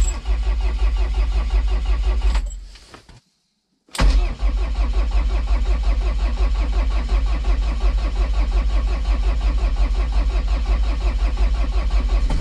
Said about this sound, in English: Started up, but the throttle cable is frozen.